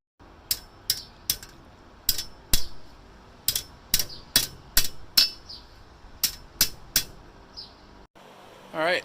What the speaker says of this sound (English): Next I'm going to take this out to my anvil and pound on it a little bit